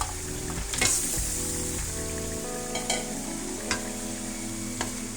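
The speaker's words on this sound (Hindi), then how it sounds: "अब इसको हम अच्छी तरह से फ्राई करेंगे।" Chicken fries in oil with squash (halwa kaddu), giving a constant close sizzle with scattered clinks and scrapes from stirring, and no speech over it.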